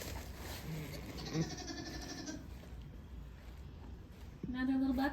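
A newborn Mini Nubian goat kid bleats in short, thin calls during a birth, with a stronger bleat near the end, over close low voices and background farm noise.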